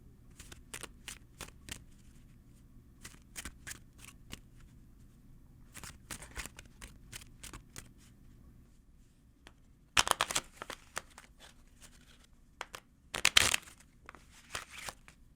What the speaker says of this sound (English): Allow me a moment to prepare some of my cards.